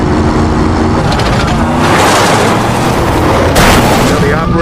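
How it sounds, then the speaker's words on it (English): A film car crash as a speeding car hits a bridge barrier and flips over: a loud, continuous roar of impact and tearing metal with a sharp crash burst near the end. "Because Broker's car is too fast and hits the bridge barrier"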